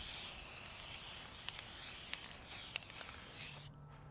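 An aerosol spray paint can gives a long steady hiss with a few faint taps, quiet and close during a relaxed painting session, then cuts off near the end.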